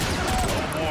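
The A4 Pulsar Cannon fires in Transformers: Fall of Cybertron, giving a dense, loud burst of energy shots that runs continuously through the short clip.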